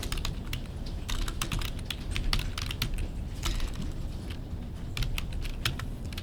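Fingers type on a computer keyboard in quick, irregular bursts of close clicks with brief pauses, over a soft background hum.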